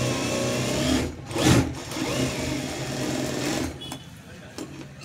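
A sewing machine stitching a blouse runs in a steady whirring hum close by, with a brief louder burst near the start and a quieter stretch toward the end.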